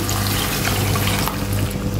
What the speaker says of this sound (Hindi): अब इसमें 1 कप पानी डाल दूंगी